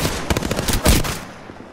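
Rapid close bursts of automatic gunfire in the battle royale shooter Apex Legends, a quick string of loud sharp shots that ends in a heavier blast and then fades out.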